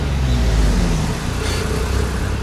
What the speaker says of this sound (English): so it's revving his car.